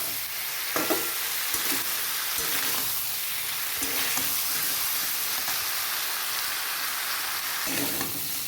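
Jackfruit curry stir-frying in oil in a pan, with a constant close hissing sizzle and occasional soft stirring scrapes, no voices.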